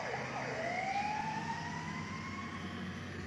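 A Pontiac Bonneville ambulance siren wails steadily at a distance, its rising tone sustained over a constant background rumble of traffic.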